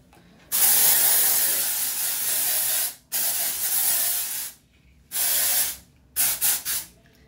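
Close aerosol hair spray hisses in several bursts: a long spray, a second long one, then shorter puffs, with brief silences between.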